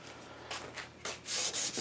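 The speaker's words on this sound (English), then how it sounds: "I'm sanding a very, very, very thin layer of the original paint" Hand sanding strips a very thin layer of original light chocolate-brown paint from a wooden school desk, heard as several short, close, raspy back-and-forth strokes that grow longer and louder toward the end.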